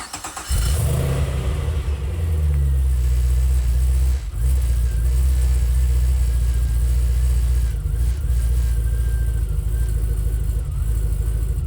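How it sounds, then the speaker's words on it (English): A big Corvette V8, swapped into a Porsche 911, cranks and catches, then settles into a loud, lumpy, rumbling idle that runs steadily close by, with a brief dip midway. "Finally, we're able to give this thing a start so we can see how it sounds."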